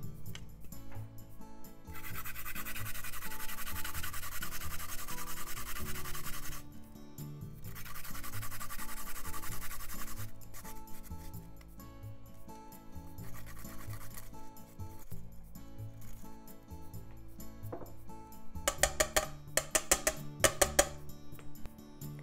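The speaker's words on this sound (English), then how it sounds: "I'm going to grate it with the skin on, so I washed it really well." Fresh ginger with the skin on is grated for gingery pork meatballs: close, rasping scratchy strokes in long bursts with pauses, ending in a quicker run of short scrapes, no talk.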